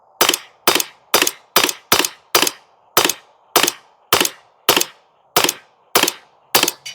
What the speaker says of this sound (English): Well, I'm just going to keep firing until it fires.